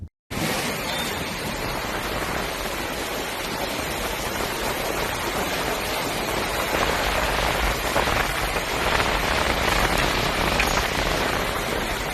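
Steady rain pours down onto surfaces as a dense, even hiss that stays loud and constant throughout, with no voices.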